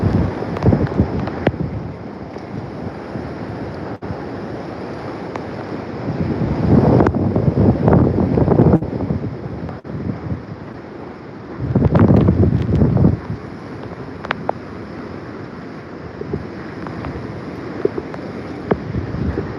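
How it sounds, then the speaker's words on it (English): Strong hurricane wind batters the microphone in Santa Cruz, Jamaica, roaring loud and gusty in surges that swell and ease, with scattered knocks and rattles, and no speech. "The wind's changing direction."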